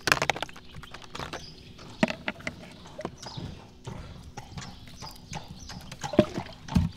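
A hungry Haflinger horse approaches for feeding, its hooves clopping in soft, uneven steps at close range in a quiet setting, with a faint voice now and then.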